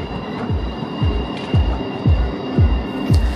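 An Erfurt tram runs along its track with a steady rumble as its wheels give about six regular squealing, clacking beats, close and loud.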